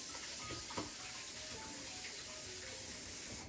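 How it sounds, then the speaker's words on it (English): Running tap water splashing over hands at a sink, a quiet, steady wash of water throughout the short moment. "Wash my hands."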